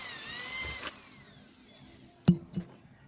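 A short electric drill whir winds down, then after a pause two sharp knocks ring out close by, while drilling holes at marked spots to fit an audio board.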